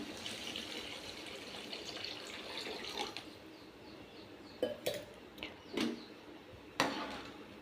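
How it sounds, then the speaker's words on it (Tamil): Water pours into a pot of Tamil fish curry with a faint gushing trickle, followed by a few clinks of pot and utensil, soft and close. "இப்போது தண்ணி சேர்த்துக்கிறேன்."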